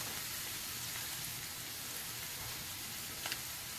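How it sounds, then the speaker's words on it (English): Paprika sizzles in a pan while frying for spaghetti Bolognese, a steady, soft hiss with faint crackles throughout and no talking. "I'm going to fry it for a little bit."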